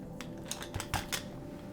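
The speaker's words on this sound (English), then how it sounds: "now we're going to take our scissors and we're going to cut just a half circle out right here" Scissors snip through folded paper while cutting out a half circle for an animal mask craft, a few short crisp cuts close by over a steady fan-like hum.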